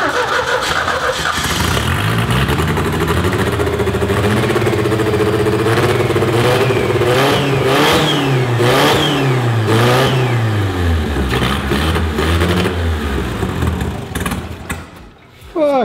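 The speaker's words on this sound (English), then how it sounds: "Got some turbo spool." A turbocharged 2.3-litre engine in a Datsun 240Z with a makeshift exhaust fires up and revs hard, rising and falling through repeated loud pulls with audible turbo spool, close and raw, before dropping off at the end.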